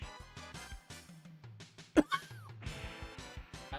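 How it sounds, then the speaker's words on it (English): A single sharp cough bursts out midway over steady background game music, brief and fairly loud against the tune. "That was a very well-timed cough"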